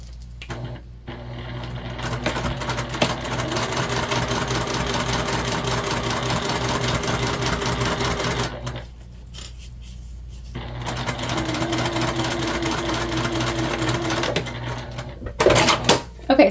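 A sewing machine basting a top stitch on a fabric pouch, a steady fast mechanical whir running in two long passes with a brief pause between them, fairly quiet and heard alone.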